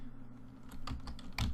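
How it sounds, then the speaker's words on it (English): Keys on a computer keyboard are tapped in a short burst of a few quick clicks, near and fairly quiet, with no voices. "We should be able to type right in here."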